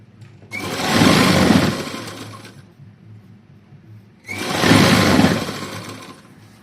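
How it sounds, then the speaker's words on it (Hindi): Sewing machine stitching a heavy-size peplum kurti, running in two loud bursts of rapid mechanical whirring separated by a quieter pause, close and alone with no talk. "इस तरह से हमें इसके ऊपर भी ऐसे ही सिलाई लगाते हुए चलना है।"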